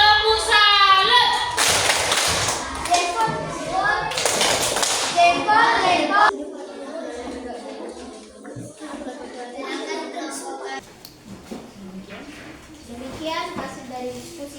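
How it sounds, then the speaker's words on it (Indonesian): A classroom group gives a rhythmic clapping salute for group GP, with bursts of patterned hand claps and taps among children's voices and chatter, fairly close, then quieter claps scattered under talk. "sekarang tepuk salut untuk kelompok GP di tepuk salut"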